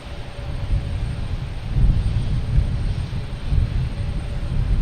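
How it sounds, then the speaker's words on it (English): An American Airlines Boeing 737-800 takes off from Boston Logan, a loud continuous low jet roar that swells and holds steady with wind buffeting the microphone, with no voices. "American Airlines taking off, heading to Philly in a 737-800."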